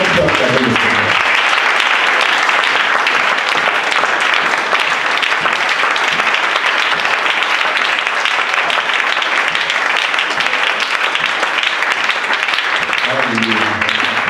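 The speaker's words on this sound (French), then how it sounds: "Est-ce qu'on peut acclamer le Seigneur?" A church congregation claps and cheers continuously at a Monday Bible study, with dense, steady applause that stays loud from start to finish.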